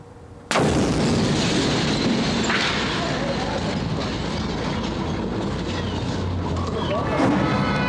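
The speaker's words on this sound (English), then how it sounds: "Bombs in the city centre, so much disruption, so many explosions." A bomb explosion in Belfast city centre bursts suddenly and loudly, then gives way to a long rumbling, roaring wash of noise that fades slowly.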